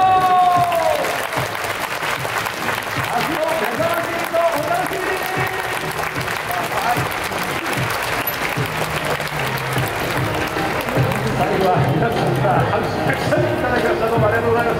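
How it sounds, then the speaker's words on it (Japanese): Spectators applaud throughout a baseball stadium before a Tokyo Yakult Swallows versus Yokohama DeNA BayStars game, a broad sustained wash of clapping and crowd noise under a speaking voice for the whole stretch. "皆さんから拍手たくさんいただきました。"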